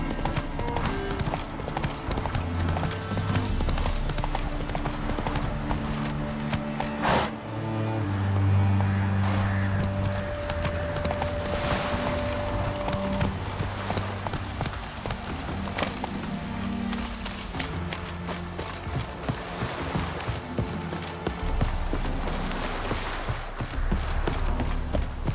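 Horse hooves gallop in The Witcher 3, a steady rapid clip-clop running throughout with game music and ambience underneath and a brief whinny partway through.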